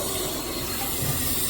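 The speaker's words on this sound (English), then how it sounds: "now we turn it, we can hear our water running" Water rushes steadily into a toilet cistern through its fill valve once the valve is opened, a continuous close hiss and gurgle holding an even level with no voices.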